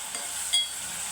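Green chillies go into a hot pan for a potato chicken curry: a steady close sizzle swells briefly into a short hissing flare midway through.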